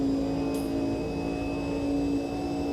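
Race car engine in the sim racing game Automobilista 2, a steady droning whine held at constant pitch with a faint whoosh near the start, continuous and fairly loud with no talking.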